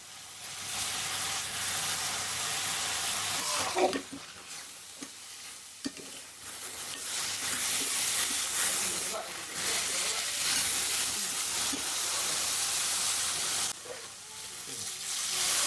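Finely chopped carrots sizzling in hot oil with onions for potato masala, a loud continuous frying hiss with stirring scrapes and brief dips as the pan is worked.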